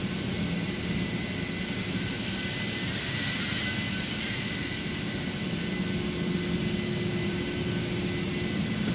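Simulated Airbus A321 jet engines heard from outside the aircraft during approach, a steady, loud broadband roar with a constant low hum and high hiss, continuous and unchanging, with no voices.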